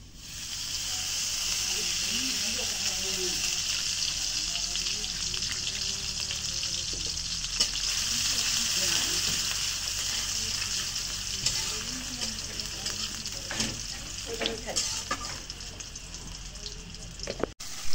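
Chopped onion fries in oil in a kadai with a steady, close sizzle and hiss, broken near the end by scraping clicks from stirring, while a voice talks faintly underneath.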